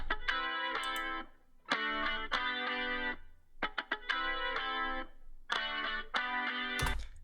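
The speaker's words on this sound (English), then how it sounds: "So the guitar he added sounds like this." An electric guitar part in an 80s-style production, doubled left and right, plays choppy bursts of bright distorted chords with short pauses between phrases.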